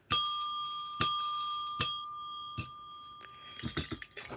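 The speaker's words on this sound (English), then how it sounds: "I got my bell sticking on me here. I got to probably oil it." A sticking bell that needs oil is rung three times with clear metallic dings about a second apart, then weaker, muffled rattling clicks as it catches, up close and without talk.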